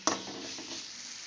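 Bathua greens being sautéed in oil make a close, even sizzle, opened by a brief stirring scrape.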